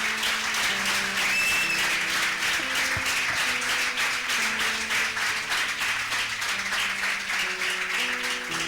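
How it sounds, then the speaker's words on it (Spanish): A church congregation applauds together during a service. Sustained, dense clapping from many people runs throughout, with soft sustained tones from an instrument or organ underneath. "Le damos un aplauso al Señor por eso."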